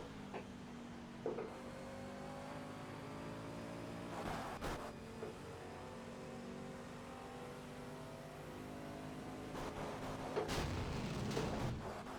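Race car engine in the game Project Cars VR, faint and thin, with rising and falling revs and gear changes, broken by a few sharp bumps and crashes near the start and end.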